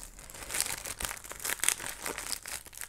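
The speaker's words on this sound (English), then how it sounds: "I might have to rip the bottom of the bag." A decorated gift bag with a topper crinkles and crumples under handling, with a few sharper tearing rustles as the paper is pulled at, close and continuous, no voices.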